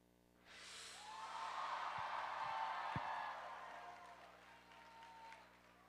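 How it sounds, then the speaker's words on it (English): A crowd cheering and clapping at a dance marathon fundraiser swells quickly into a sustained roar of applause and shouts, then slowly eases off over several seconds. "Give me your best cheers."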